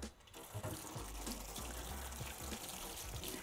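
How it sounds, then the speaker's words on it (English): Warm water runs steadily from a tap for hand washing, a soft continuous gush into a sink. "let's take a second and wash our hands"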